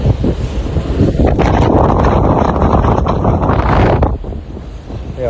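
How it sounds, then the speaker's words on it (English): Strong wind buffets the microphone on an open ship deck mid-sea between the UK and France, roaring loudly for several seconds before easing slightly. "Wow, it's windy out here."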